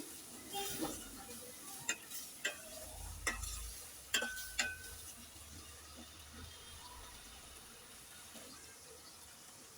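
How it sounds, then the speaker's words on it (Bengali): Small shrimp are fried and stirred with spices, which gives a faint, low background sizzle punctuated by several sharp spatula clicks against the pan, mostly in the first half. "মাছটাকে নেড়ে ছেড়ে সব মশলার সাথে কিছুক্ষণ ভেজে নেব আমি"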